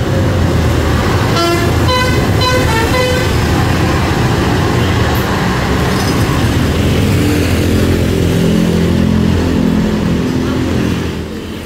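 A Dedy Jaya 'Pangeran' bus pulls away at the Margasari terminal with a heavy, loud engine rumble and a short burst of its horn near the start, while traffic noise and voices blend in the background.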